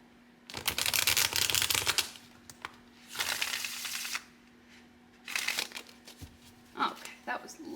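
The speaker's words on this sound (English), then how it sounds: "Love a crisp riffle shuffle." Tarot cards riffle-shuffled in crisp bursts: three loud fluttering riffles, each a second or so long, separated by short pauses and softer card handling, close to the listener.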